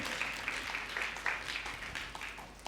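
A church congregation claps along during a Sunday service, producing a steady, rhythmic patter of many hands at moderate loudness across the room.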